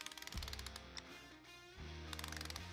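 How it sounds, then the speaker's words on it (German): Torque wrench ratcheting while tightening the clutch on a Sachs 50/2 moped engine, with a locking tool fitted; close, crisp clicks in two short runs separated by a brief pause. "ziehe auch da wieder mit Drehmoment an"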